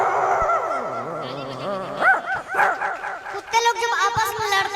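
A voice imitates a dog, sliding whines and whimpers followed by a string of short, loud, yapping barks close to the listener.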